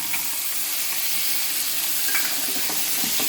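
Soaked green peas fry in a hot pan with a steady, close sizzle and occasional stirring scrapes; no one speaks.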